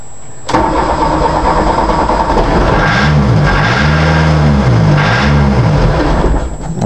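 A 1982 VW Rabbit diesel engine is cranked on a hard start. Its loud, close starter churns steadily, and uneven surging rumbles come as the engine struggles to catch, with no talk.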